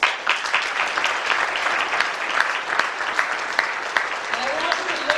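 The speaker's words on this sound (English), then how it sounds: "And I want you to give that young man a round of applause." A crowd at a youth affairs department event claps loudly and steadily, a dense sustained wash of applause with a faint voice briefly heard beneath it.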